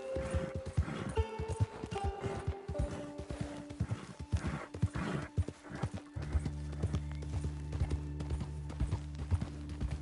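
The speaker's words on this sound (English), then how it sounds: "That is one fine horse. Looks like it can race a train." Horse hooves clip-clop in a steady trotting rhythm in Red Dead Redemption 2, with a neigh early on, then a low engine-like hum joins partway through.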